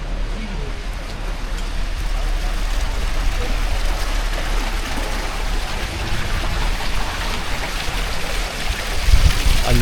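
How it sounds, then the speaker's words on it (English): Steady broadband rushing of running water fills the scene, continuous and fairly close, with faint voices in the background. "I love the sound of running water."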